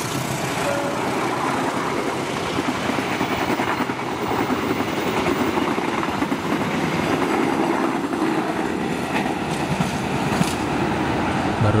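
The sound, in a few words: passing Kuto Jaya Utara 224 passenger train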